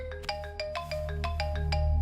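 A telephone ringtone in a dubbed South Indian film, repeating a bright electronic melody of short, evenly spaced tones over a steady low hum, with no talking.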